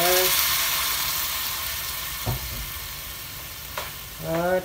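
Pork adobo made with pork hock and Sprite frying in a pan, a steady loud sizzle with scraping stirs, while someone talks at the start and again near the end.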